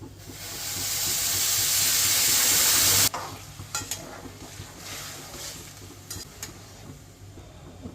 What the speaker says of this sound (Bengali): এবারে এর মধ্যে গরম জল দিয়ে দেবো।